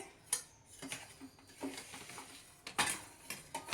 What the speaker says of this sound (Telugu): ముందు గరిటెతో కలిపి తర్వాత చేత్తో కలపాలండి.